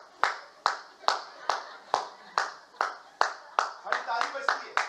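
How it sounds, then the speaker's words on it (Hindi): Rhythmic hand clapping during a church worship service: about a dozen sharp, evenly spaced claps that come closer together and overlap near the end, close and clear. "ताली बजती है"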